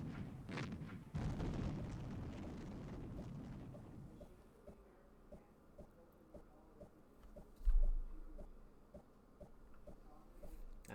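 Howitzer artillery fire in Civilization II on a classic Mac, a rumbling explosive blast for several seconds followed by quieter evenly spaced clicks and a low thud partway through.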